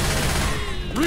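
Gunfire in the VR mod of Left 4 Dead 2, a short dense burst of shots mixed with game sounds and a rising tone near the end, loud and continuous.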